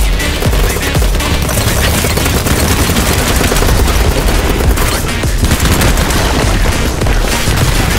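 Dense, continuous gunfire with bursts and explosions from the video game BattleBit Remastered, loud and sustained throughout with a rapid crackling rhythm.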